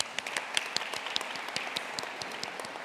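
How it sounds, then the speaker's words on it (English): Audience applause at a 2021 graduate commencement ceremony, steady dense clapping from a large crowd filling the hall, with sharper individual claps standing out. "Give yourselves a round of applause."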